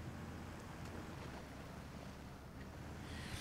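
A truck in SnowRunner pushes through deep water, producing a faint, steady rushing and churning wash with a low rumble underneath and no voices.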